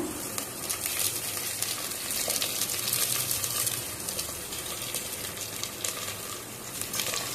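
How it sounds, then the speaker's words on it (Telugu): Green chillies slit lengthwise and sprigs of curry leaves sizzle loudly and steadily in hot oil with fried onion in a close pan, a dense continuous crackle without talk. "కొంచెం వేగాక ఒక పన్నెండు పచ్చిమిర్చిని నిలువుగా చీరుకొని వేశాను తర్వాత ఒక మూడు రెమ్మల కరివేపాకు వేసుకున్నాను"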